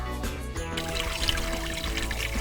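Water pouring and trickling at the source of the Kama river near the village of Kuliga, Udmurtia, a steady close liquid splashing that runs continuously with no voices.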